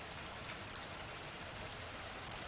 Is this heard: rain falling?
yes